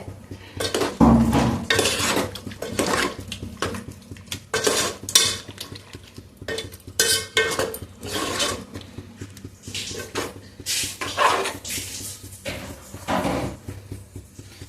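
Chicken goes into a home-cooked biryani pot, bringing repeated metal clanks, scraping and stirring of utensils against cookware, with a faint sizzle underneath, close and busy throughout.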